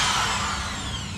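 A power drill bores into a wooden batten during a camper van build, its high whining motor running loud and steady at close range for the whole short burst.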